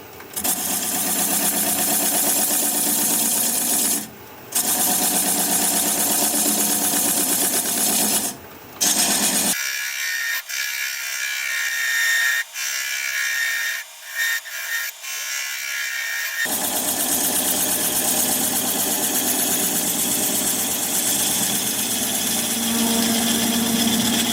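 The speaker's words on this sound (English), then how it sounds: "I'm going to use a 3/8 inch standard grind bowl gouge and begin to removing the tenon, turning at about 500 RPM." Wood lathe spinning at about 500 RPM while a 3/8 inch standard-grind bowl gouge cuts away a bowl's tenon, a steady scraping rasp that runs almost continuously with a few brief pauses and one quieter stretch midway.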